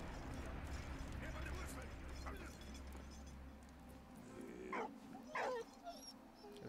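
Dog in the World War I game Valiant Hearts: The Great War gives a couple of short barks and yips near the end, set over a steady rumbling game backdrop with a voice talking throughout.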